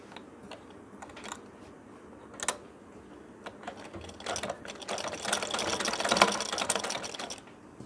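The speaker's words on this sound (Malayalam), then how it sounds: "ഇട ചുറ്റും സ്റ്റിച്ച് ചെയ്ത് പിടിപ്പിക്കുക." Sewing machine stitching fabric for a newborn napkin hanger at home, a few short needle bursts that build into a louder, fast rattling run of stitching.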